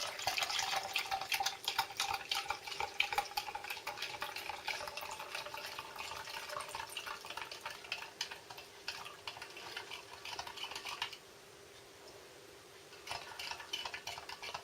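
Water poured into an orange MRE drink mix, about three quarters of a pint, a steady close trickle and splash that runs continuously for around eleven seconds, drops away, then briefly resumes near the end.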